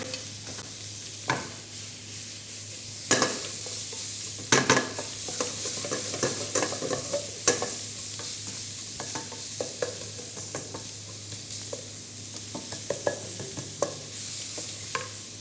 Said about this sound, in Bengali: আমরা দিয়ে দিব হচ্ছে অনিয়ন, স্লাইস অনিয়ন।